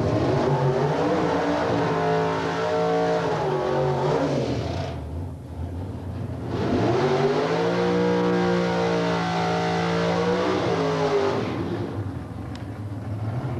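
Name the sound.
drag racing car with large American engine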